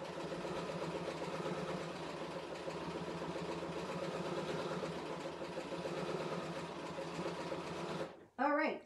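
A Bernina sewing machine stitches with a double needle, giving a steady, fast mechanical whir that runs continuously and then stops near the end, followed by a brief voice.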